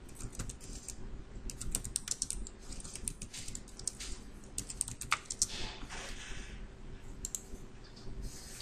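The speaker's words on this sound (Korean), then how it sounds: "여기다가 글씨를 타이핑을 치겠습니다." Fingers tap a computer keyboard in a steady run of light, quick clicks at close range, with brief pauses between bursts and no voices.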